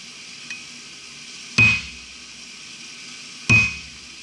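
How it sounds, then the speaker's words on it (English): Steel being squared on the edge of an anvil while forging a diamond finial: two loud, sharp hammer blows about two seconds apart, each ringing briefly and metallically over a quiet background hum. "Then I'm going to come to the edge of the anvil and square this."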